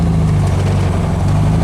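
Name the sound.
1776 single port engine idling quietly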